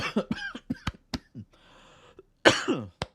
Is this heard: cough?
yes